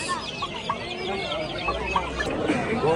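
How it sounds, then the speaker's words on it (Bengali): Turkeys at a livestock market cluck and gabble close by, with other poultry calling among them over the busy murmur of the crowd. "ছয় কেজি ওজনের টার্কি মুরগি পঁয়ত্রিশ টাকা পার পিস"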